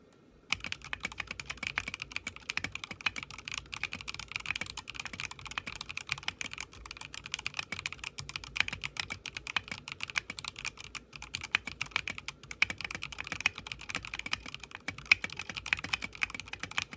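Rapid, steady typing on a stock mechanical keyboard with a tape mod, dense clacky keystrokes running continuously and close up for the whole stretch, no voices.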